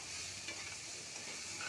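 Onion with ginger, cumin, garlic and chili pastes, after bay leaf tempering, fries and is stirred in a pan, giving a steady, close sizzle with soft scraping throughout and no talking.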